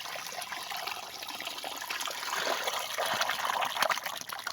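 Mud poured into a hole makes a wet, gushing trickle, close and moderately loud, swelling slightly over a few seconds.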